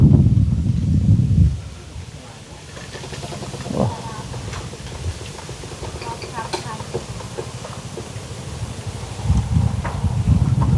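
Wind gusting through trees and leaves outdoors beside a house, a steady rustling wash with louder low rumbling gusts at the start and end.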